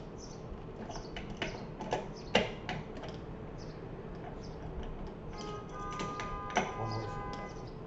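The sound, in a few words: adjusting wrench on guitar locking tuners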